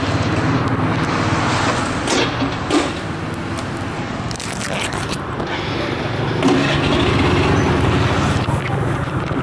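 A Honda Zoomer scooter's starter cranks steadily without the engine catching, a loud mechanical whir with intermittent clicks over steady background noise.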